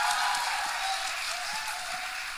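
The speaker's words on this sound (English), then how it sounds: "Yes, guys, please, a round of applause." Audience at a live trailer launch event for the Netflix film Do Patti applauding, a steady, even wash of clapping that tapers off slightly, with no voices on top.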